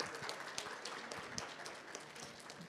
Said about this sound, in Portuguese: pedir mais uma vez uma salva de palmas para a equipe da ANM